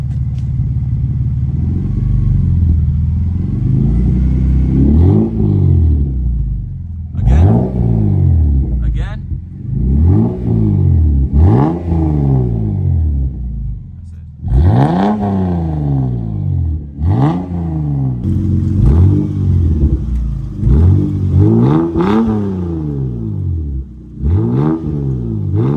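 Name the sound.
1995 Toyota Supra engine revving with HKS carbon-Ti exhaust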